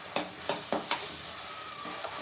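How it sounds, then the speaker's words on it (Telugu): Onions fry in a pan for chicken curry, a steady sizzle running throughout with several sharp stirring scrapes near the start, close and moderately loud, no voices. "ఇప్పుడు ఈ ఆనియన్స్ మంచిగా ఫ్రై అవ్వాలి."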